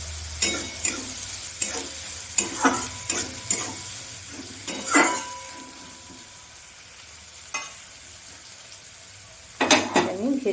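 Vegetables stir-fried in a pan for Bengali fried rice made with minikit rice: a spatula scrapes and clacks against the metal in irregular bursts over a soft, steady sizzle, nearby, with a quieter pause in the middle.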